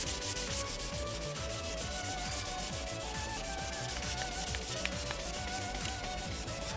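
A sponge sanding pad rubs steadily over a yellowed, curved car headlight lens, giving a continuous close, dense scrubbing hiss with no breaks.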